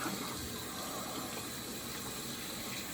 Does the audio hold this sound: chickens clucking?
no